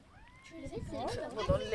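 Hungry stray cats meow in a family's converted coach, the high meows coming through under close conversation.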